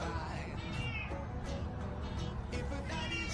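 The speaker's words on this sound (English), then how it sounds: "Oh, here comes the cat, look." A neighbour's cat meowing several times in short, drawn-out calls, fairly close over a constant background hum, with a voice briefly heard.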